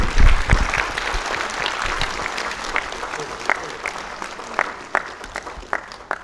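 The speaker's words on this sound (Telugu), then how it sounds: "మీ అందరి కరతాళ ధ్వనులు వినిపించండి" An audience at a Kriya Yoga foundation event applauds steadily, a sustained crackle of many hands. Sharper individual claps stand out, and some voices can be heard under it.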